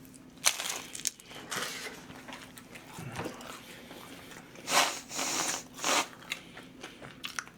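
Several crisp bites and crunchy chewing sounds up close on a warm, crispy fish-shaped bungeoppang pastry filled with whipped cream, louder bursts of crunching near the end, with quiet pauses between them.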